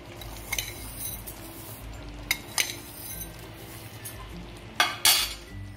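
Sugar poured a little at a time into a milk cake barfi mixture as it is stirred in a pan, with a few sharp spoon clinks against the metal over a low background hum.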